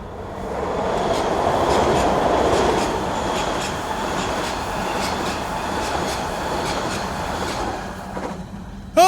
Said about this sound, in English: this is indeed a great New York subway train coming at us